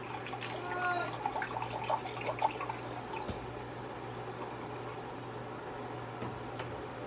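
Milk is poured into a measuring cup in a home kitchen, a soft faint trickle with a few light drips and clinks early on, then quiet.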